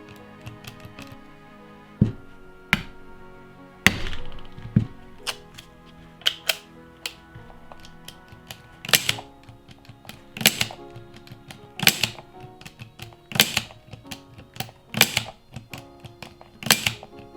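Small hammer or mallet tapping a revolver yoke into alignment, a series of sharp metallic taps spaced irregularly a second or two apart, close and crisp against a quiet background.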